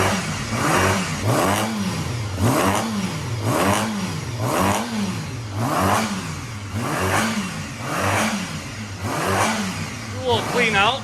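A barn-find Honda MC19 CBR250RR four-cylinder motorcycle running on its first start in 18 years, with steady rhythmic revving that rises and falls about every second, close and loud, under occasional voices.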